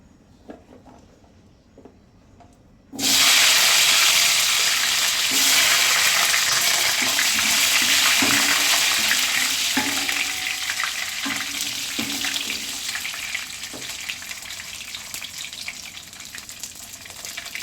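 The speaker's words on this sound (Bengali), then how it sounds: "এই তো রসুনগুলো ভাজা হয়ে গেল।" Loud, steady sizzling of garlic frying in a hot pan starts abruptly after a quiet moment and continues with faint stirring clatter.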